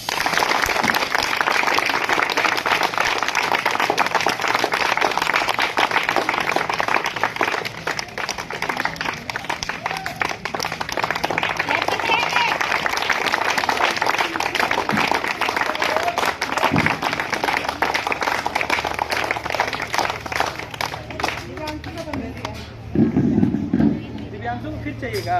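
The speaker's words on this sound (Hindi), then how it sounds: "जोरदार तालियां" Sustained applause from a school audience at a Holi event fills the room, a dense, even clapping that continues for a long stretch with some voices and crowd murmur mixed in.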